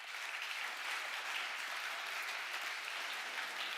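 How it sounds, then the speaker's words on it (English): Steady applause from a closing-ceremony audience at the HackZurich hackathon, thanking its gold partners, a continuous, fairly soft patter heard from a distance. "I think we can also give an applause to them."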